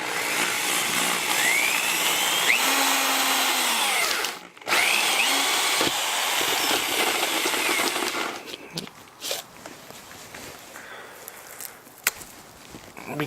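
A power drill with a screw-type bit bores a button hole in an arcade table, a loud, steady whirring grind for about eight seconds before dropping to quieter clatter and handling noise.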